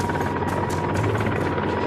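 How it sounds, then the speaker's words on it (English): Mi-26 heavy transport helicopter, a cargo lifter that carries external sling loads, heard as a steady, loud rotor and turbine roar with a faint rhythmic blade pulse and no voices. "This helicopter performed well at transporting very heavy cargoes with the help of external load sling system."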